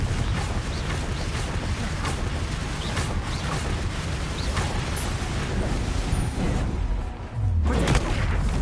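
Spell explosions from Bombarda and Confringo in the Hogwarts Legacy video game, a dense barrage of booms and crackling blasts rumbling continuously, with a sharp deep thump near the end.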